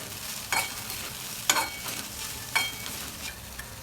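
Okra being stirred with turmeric in a pan, a spoon scraping through it in a few distinct strokes over a steady low sizzle, heard up close with no talking.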